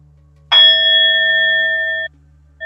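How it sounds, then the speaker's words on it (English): A single bell is rung to open sacred space before a yoga session: one clear, bright strike with a ringing harmonic tone that sustains for about a second and a half before cutting off, with a second strike just starting at the end. "I'm going to ring the bell just to make sacred space"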